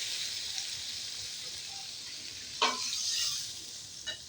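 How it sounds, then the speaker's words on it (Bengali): Warm water poured into a hot frying pan of fried potatoes, giving a steady bright sizzle with a couple of short splashy bursts as it hits the oil. "কিছুটা জল দিয়ে দেবো, উষ্ণ গরম জল।"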